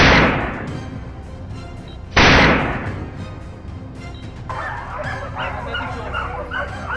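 Hunting dogs chasing a wild boar outdoors: two loud blasts like gunshots, then dogs barking and yipping excitedly at close range, the barks coming in quick, overlapping bursts.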